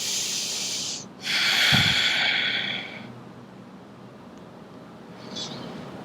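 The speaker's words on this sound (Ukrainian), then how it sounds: "залишаємося тут на декілька вдихів і видихів, дихаємо спокійно" Slow, calm breathing during a yoga session, close to the microphone, a long airy inhale and exhale followed by quieter breaths.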